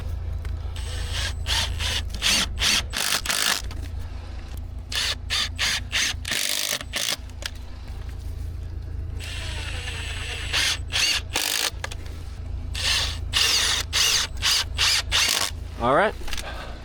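Drill-driver running screws into an ICF stem wall on top of a FastFoot footing, giving repeated short bursts of ratcheting whir with pauses between them, close and fairly loud, with a brief voice at one point.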